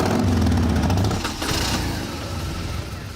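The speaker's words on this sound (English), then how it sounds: "Start your engines." Motorcycle engines rev and rumble loudly at first, then drop away into a softer, uneven engine and wind noise.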